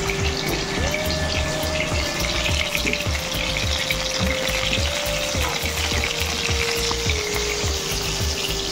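Panch phoron spices frying in hot oil with garlic and green chillies, a steady, close sizzle and crackle running throughout, with a faint steady hum underneath and no talking.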